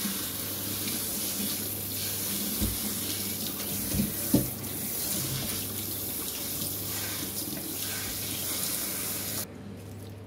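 Vegetables are washed under a running kitchen tap, a steady broadband rush of water filling a sink for most of the stretch, with a few brief knocks and splashes before the flow suddenly drops away near the end.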